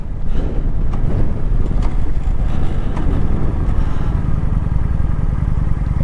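A motorcycle slowing under light braking from 30 mph toward 5 mph, heard as a steady low engine drone buried in heavy wind rush across the microphone, loud and continuous with no voices.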